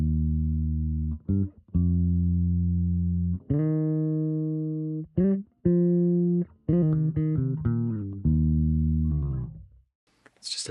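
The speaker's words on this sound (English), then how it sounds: "That natural bass tone sounds like this." Bass guitar played through a Fractal Audio preset with Ampeg cabinet impulse responses and fairly old strings, heard alone as a run of clean, sustained low notes with short gaps between phrases and a brief scrape at the end.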